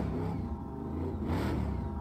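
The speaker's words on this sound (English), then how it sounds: "when these all-wheel drive cars hook up, they get going fast" An all-wheel drive gymkhana car accelerates hard, its mid-pitched engine droning and rising briefly in a short, steady burst, heard at moderate distance without speech.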